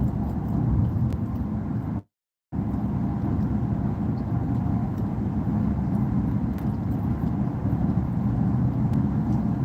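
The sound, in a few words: car interior while driving in Houston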